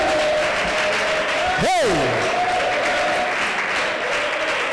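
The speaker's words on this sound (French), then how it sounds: "Encore une forte acclamation." A French-speaking church audience claps and cheers loudly in a hall, a dense continuous roar of applause with a voice shouting out over it and an electronic whine beneath.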